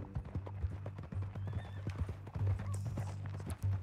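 Horse hooves clip-clop steadily on the ground in the Red Dead Redemption 2 epilogue, a close, even walking rhythm over a low ambient hum, with a brief whinny-like tone partway through.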